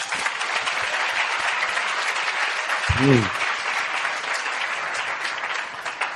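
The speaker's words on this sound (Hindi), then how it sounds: "आइए पास्टर जी के लिए ताली बजाएंगे हम।" A congregation at a church meeting claps for the pastor, a continuous, moderately loud wash of applause with a brief voiced shout rising near the middle.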